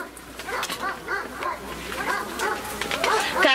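Dogs barking along an outdoor hiking trail in the Gush Etzion area, with repeated yapping barks and whimpers coming in bursts across the scene, mixed with people talking nearby.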